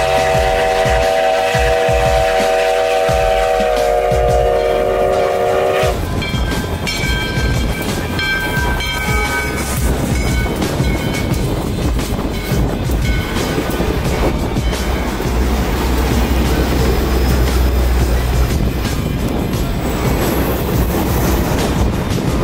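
U.S. Sugar steam locomotive 148 hauls the Sugarland Limited past a field and round a curve, its whistle sounding briefly before loud, steady wheel rumble and clatter of passing cars fill the rest.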